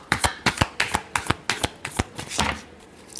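A deck of tarot cards riffle-shuffled in a quick run of crisp, snapping bursts close to the mic, slowing and trailing off into quiet at the end.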